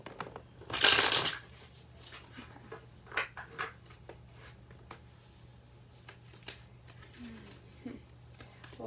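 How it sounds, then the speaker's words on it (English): A deck of tarot cards being shuffled by hand, one loud burst of riffling near the start followed by softer scattered card rustles and taps, close up with no talk. "Sorry, I feel like I need to shuffle one more time."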